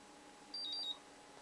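Thunder AC6 battery charger set for an 18.5 volt battery gives a short run of quick, faint high-pitched electronic beeps, about three or four, in a quiet room.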